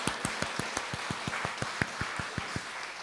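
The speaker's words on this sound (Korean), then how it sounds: "우리 좋으신 하나님께 감사의 박수 올리겠습니다." A church congregation at a dawn worship service claps in unison to give thanks to God, a steady rhythmic series of about fifteen evenly spaced claps over a soft background hum.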